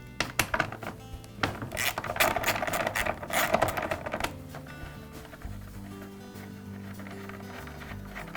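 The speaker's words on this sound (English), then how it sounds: "Now I can remove the bolts that secure the starter to the blower housing." A ratchet wrench clicks rapidly as bolts holding a lawn mower recoil starter to the blower housing are loosened, with metallic clinks and ratcheting bursts, then a quieter mechanical rattle.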